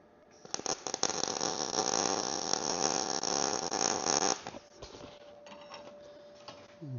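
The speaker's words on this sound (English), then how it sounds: "So I'm going to weld this in here in place now" Welding on a metal brolga sculpture, a steady harsh buzzing crackle with sputtering onset that runs for about four seconds then cuts off, leaving faint tapping and a thin whine.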